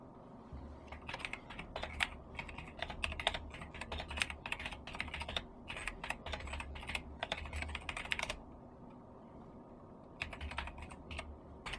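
Typing on a computer keyboard: bursts of rapid, close key clicks in an uneven rhythm, pausing for a couple of seconds before a final flurry, with no talking.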